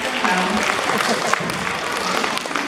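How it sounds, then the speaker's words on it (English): Audience applause during a seal show at a SEA LIFE aquarium, a steady wash of many hands clapping throughout with some voices mixed in. "give a round of applause, guys"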